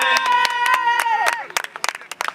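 Spectators clap for the team in white at a charity football match at Stade Daniel Valentini in La Seyne-sur-Mer. Sharp claps run under a voice at first, then continue alone as uneven, scattered bursts.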